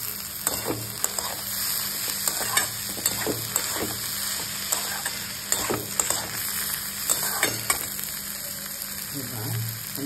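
Chopped tomato frying in a pan while being stirred, with a steady sizzle and repeated scraping strokes of a spoon at an irregular rhythm, close and fairly loud, with no talking.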